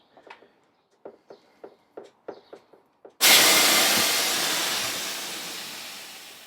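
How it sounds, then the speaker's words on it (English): Air rushes out of a bicycle tyre valve in a sudden loud hiss that slowly fades, after a string of short clicks and taps from working on the tyre, which is fitted with an insert. "And again, we're going to let all the air out."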